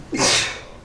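A single sharp sneeze bursts out close by in a township public meeting room, one quick loud exhalation that fades within a second.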